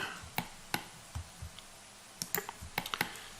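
Mouse and keyboard clicks during 3D modeling in Blender: sparse, sharp, close clicks and taps at irregular intervals, some in quick clusters, over a quiet background.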